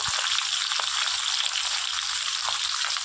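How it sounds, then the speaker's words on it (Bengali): Pointed gourd pieces fry in hot oil with turmeric, a loud, steady, close sizzle with a hissing, crackling texture that holds without a break throughout. "তেলও গরম হয়ে গিয়েছে এবার পটলগুলো দিয়ে দেবো"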